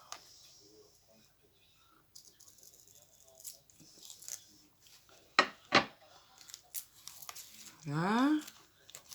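Salvaged material being cut with scissors during a craft storage project, with soft rustling and handling noises, a couple of sharp snips, then a brief scraping rasp; quiet and close, with someone talking intermittently.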